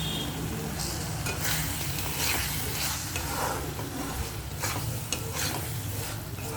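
A spice masala being sautéed in a pan, sizzling steadily and close, with repeated scraping and stirring strokes. No one speaks.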